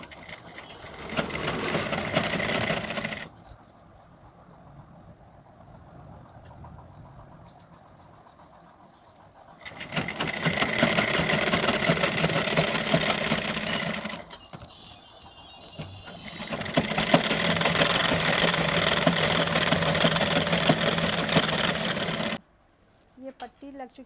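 A sewing machine stitching lined blouse fabric in two long steady runs of rapid mechanical whirring, separated by quieter pauses where the cloth is handled; someone speaks over it.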